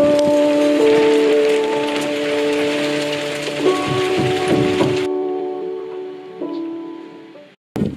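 Steady rain falls over a garden at a building site where a garden office is being built, a dense continuous hiss that cuts off partway through, leaving quieter background sound.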